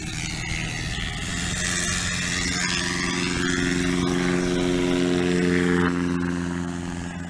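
A small aircraft taking off at a short takeoff and landing competition, its engine roaring up with a steady propeller drone that swells and then fades slightly, near and loud.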